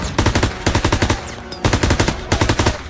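Sustained bursts of machine gun fire in the Call of Duty: WWII video game, loud rapid automatic volleys in several runs with short pauses between them, no talking.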